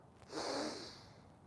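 A single slow, breathy inhale taken while moving down into a yoga pose, soft and fairly close, swelling then tapering off over about a second with no talking.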